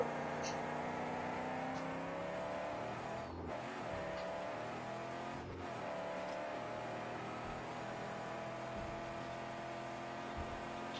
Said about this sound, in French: Trop lourde la voiture, pas de V8 dans le sable, ça avance pas